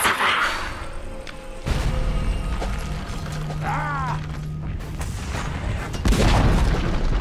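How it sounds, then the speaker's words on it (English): A tower is destroyed in the video game Dota 2: a deep rumbling collapse with creaking, grinding mechanical noises and a sudden heavy boom near the end. No voices are heard. "Dire's middle tower has fallen."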